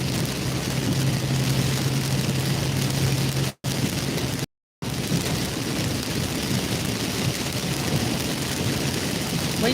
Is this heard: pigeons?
no